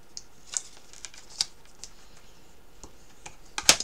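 Folds being creased firmly into craft paper for a folio album, heard as scattered short, crisp ticks and taps at close range, ending in a louder rasping scrape.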